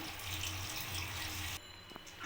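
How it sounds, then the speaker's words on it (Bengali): Plain water poured into a cooking pan, a steady rushing splash for about a second and a half before it cuts off, followed by faint drips and clinks. "আর অল্প একটু এমনি জল আমি প্লেন জল দিয়ে দিলাম"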